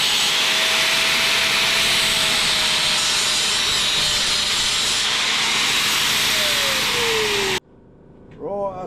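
Power tool cutting slots into the rotten steel exhaust tube of a Yamaha XT660 motorcycle, a loud, steady grinding whine that holds for over seven seconds, then cuts off abruptly and winds down.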